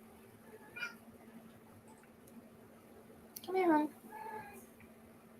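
A house cat lets out one clear, rising meow near the end, followed by a softer short call, with a person's quiet voice speaking briefly earlier.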